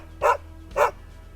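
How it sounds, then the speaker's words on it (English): A dog gives two loud, close barks about half a second apart, each short and sharp, against a quiet outdoor background during a building project that uses roof trusses and logs. "No, boy, this is not for playing fetch. Crazy dog."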